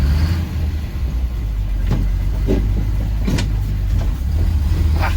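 A prewar Silversides bus pulling steadily in gear, its engine a low continuous rumble with a few brief mechanical rattles and whines over it, loud and close from inside the vehicle.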